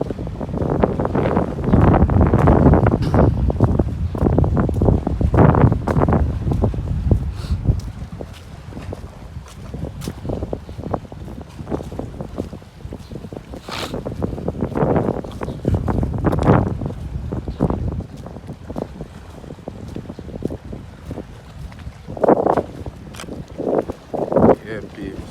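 Strong seaside wind buffets the microphone in continuous low rumbling gusts outdoors, with people talking underneath at times.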